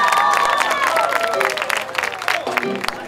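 Applause and cheering from the crowd at a live salsa orchestra show, full and busy at first, then thinning out as voices and sustained shouts rise over the clapping.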